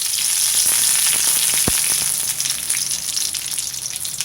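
Curry leaves fry in hot oil for a soya chunks cutlet, a loud steady sizzle with crackling pops and one sharp burst partway through, running throughout with no talking.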